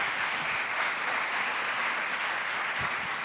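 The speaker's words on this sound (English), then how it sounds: "Give them a big round for the time up here." Applause from a conference audience for panel speakers, a dense, steady wash of clapping that holds for several seconds with no talk over it.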